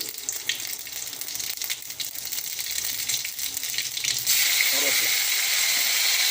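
Mustard seeds hit hot oil while tempering sambar, and a soft hiss under a talking voice gives way to a sudden bright, steady sizzle that carries on alone.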